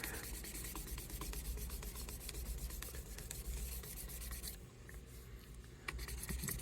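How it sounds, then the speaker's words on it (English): Quiet, steady back-and-forth sanding strokes rasp against the repaired headstock of an Epiphone guitar, with a short pause before the rubbing resumes. "I know you guys like to watch me sand things."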